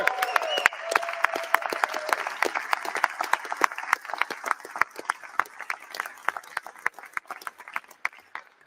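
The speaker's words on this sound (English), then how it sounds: "You got to hold your applause." An audience applauds in a legislative chamber, a burst of many hands clapping that thins into scattered, distinct claps as it fades over several seconds.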